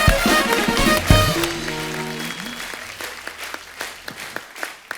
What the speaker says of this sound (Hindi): जोरदार तालियां अक्षय बाजी के लिए।